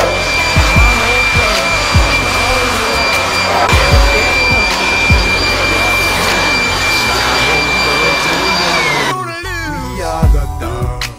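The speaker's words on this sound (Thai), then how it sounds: "เป่าแห้งนะฮะขั้นตอนนี้ก็มีกรรมวิธีนะครับเกี่ยวกับเรื่องของการเป่า" A loud blower dries a freshly washed motorcycle with a continuous high-pitched whooshing roar of air that holds steady, then cuts out near the end, leaving brief background noise and a voice.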